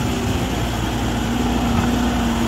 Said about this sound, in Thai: เครื่องยนต์ Isuzu ครับ4สูบ